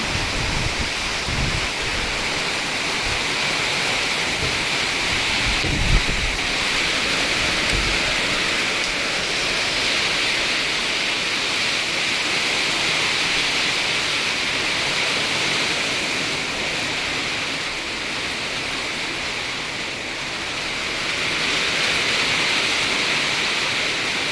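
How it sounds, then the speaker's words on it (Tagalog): Heavy rain pours steadily over rice fields in a dense, continuous roar with no breaks, loud and close throughout. "Grabe ang lakas ng ulan."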